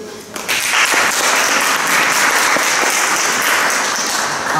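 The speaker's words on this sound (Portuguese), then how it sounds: "Vamos aplaudir." A congregation applauds during a Catholic mass, breaking into loud, close, sustained clapping after a brief quiet start and keeping an even, dense rhythm throughout.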